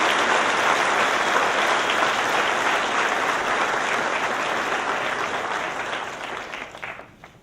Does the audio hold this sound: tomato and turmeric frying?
no